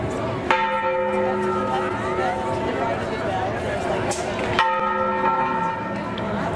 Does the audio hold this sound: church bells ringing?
yes